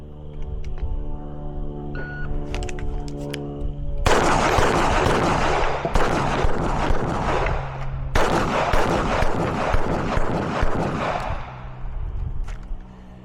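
Rapid strings of pistol shots from an STI Staccato Tactical 4.0 at a practical shooting range, a sparse few shots first, then two dense, loud volleys of fast fire with echoing tails.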